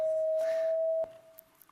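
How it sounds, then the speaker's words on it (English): A steady pure electronic tone from a head-mounted eye sensor that converts the color purple into sound, held for about a second and then fading, heard alone. "this is the sound of purple."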